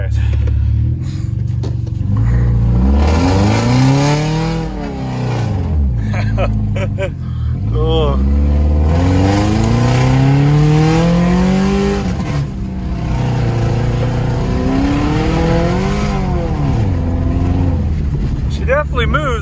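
A 550-horsepower all-wheel-drive Subaru accelerates and revs hard on a lawn, its engine note rising and falling in loud sweeping pulls, with someone talking over it.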